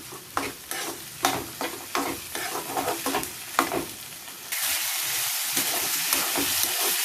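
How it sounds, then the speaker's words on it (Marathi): Field beans (val) being stir-fried on high heat, rhythmic scraping and tossing strokes over a constant sizzle, then a loud steady hiss takes over once stirring stops. "वाल थोडे शिजल्यानंतर हलकासा मोठा गॅस करून हे छान असं परतून घ्यायचे वाल।"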